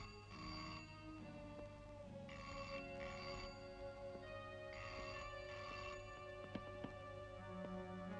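An old telephone bell at a police station rings in repeated double bursts with short pauses between them. It sounds faint and distant over a steady low background hum.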